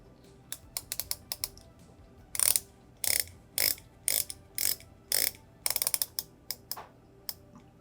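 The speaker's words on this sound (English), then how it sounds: "It's a 60-click rotating bezel that is extremely easy to use and sounds great" The 60-click rotating bezel of a Laco Atacama UTC watch is turned in close, crisp bursts of sharp ratcheting clicks, some single and some in quick runs, loud against a quiet background.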